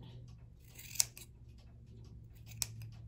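Scissors trim a felt gnome beard, two or three quiet snips and crisp clicks close by against a faint background hum.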